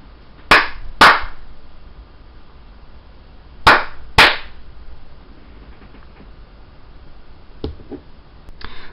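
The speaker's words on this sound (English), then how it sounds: "Whenever I clap twice, it turns this LED on or off." Two pairs of sharp double hand claps, loud and close, set to trigger an Arduino clapper circuit built with an op amp. Quiet gaps separate the pairs, and a fainter clap follows near the end.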